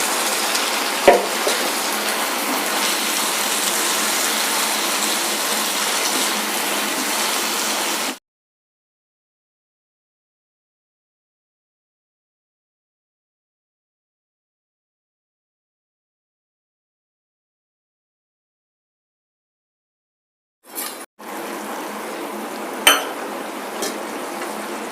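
Chicken fritters with chillies and soy sauce sizzle and get stirred in a pan, close and fairly loud. A long stretch of total silence breaks the cooking in the middle before the frying resumes.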